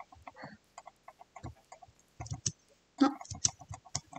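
Chickens in Minecraft cluck in short, scattered bursts, with several quick clucks spaced through the moment and no talking.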